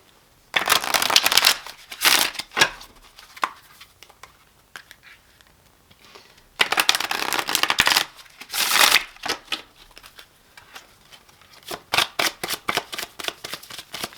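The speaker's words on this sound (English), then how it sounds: "Let me do a couple shuffles here." A tarot card deck being shuffled by hand in close, crisp riffling bursts, two longer runs separated by a pause, followed by scattered lighter card taps and flicks.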